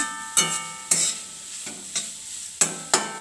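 Spatula strokes scraping a pan as vermicelli chicken biryani masala with turmeric is sautéed, about seven distinct sharp scrapes at an uneven pace over a low sizzle, close and clear with no talking.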